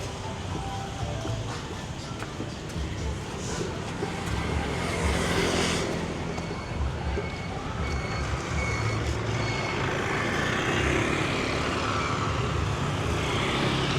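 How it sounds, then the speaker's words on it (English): Motorbikes stream past on a busy Saigon street, a dense, continuous traffic roar that stays close and loud throughout, with engine drone and beeping mixed in. "we gotta get past those motorbikes"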